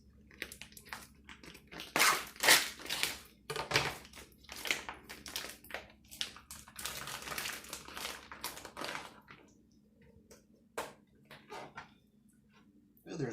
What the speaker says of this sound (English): let's chop up this leg of lamb to thin steaks.